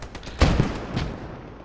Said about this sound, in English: God, this heavy mortar strike.